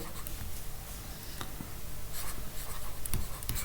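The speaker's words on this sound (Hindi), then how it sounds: "मैं यहाँ पे सीधा डायरेक्टली रिजल्ट लिख रहा हूँ" Chalk or marker writing out a result on a board during a mathematical physics lecture on surface integrals, a steady scratchy stroking under a noisy room hiss with small taps, no voice present.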